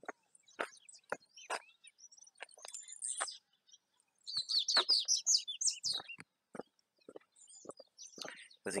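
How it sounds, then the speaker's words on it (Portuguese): Small birds chirp and twitter in quick bursts, fairly close, at the entrance to a diamond mining area on dirt streets, with brief pauses between phrases and a few soft background noises. "Os passarinhos, gente."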